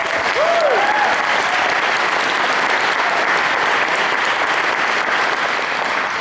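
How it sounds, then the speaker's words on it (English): A large crowd at an awards banquet claps steadily and loudly, sustained applause with a brief whistle near the start. "Let's give them a round of applause"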